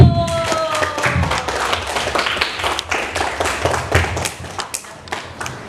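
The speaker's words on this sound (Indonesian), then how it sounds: "tepuk tangan dulu" Schoolchildren in a classroom clap hands together during a water-filtration lesson, a series of loud, fairly rhythmic claps close by, with faint voices mixed in.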